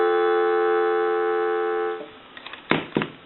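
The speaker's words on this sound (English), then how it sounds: "Give you some dial tone." Steady dial tone from a repaired wooden country-line wall telephone, a continuous harmonic hum lasting about two seconds, then cutting off before a few faint clicks and two sharp knocks.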